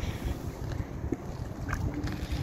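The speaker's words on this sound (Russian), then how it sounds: "Ветерок такой неприятный дует." Wind blows steadily at a riverbank while fishing near Cologne, a low broadband rush with gusty microphone buffeting throughout and no talk.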